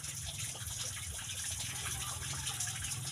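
A strong, steady flow of water gushes without a break, loud and close throughout, with a constant rushing hiss.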